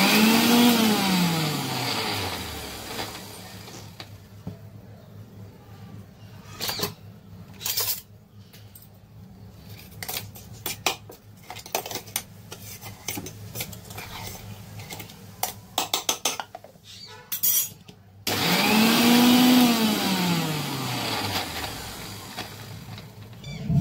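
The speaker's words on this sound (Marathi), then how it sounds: "तर बघा आपलं पुदिन्याचं मी वाटून घेते" Mixer grinder in a home kitchen grinding mint paste for a non-veg thali, loud broadband whirring in two bursts at the start and end, with quieter clattering and handling sounds between them.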